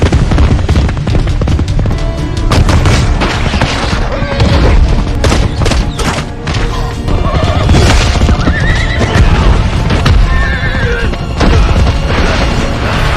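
A frightened horse refusing to cross a bridge neighs and whinnies amid loud, dense surrounding noise with booming impacts and hoof clip-clop, the whole scene heavy and continuous throughout.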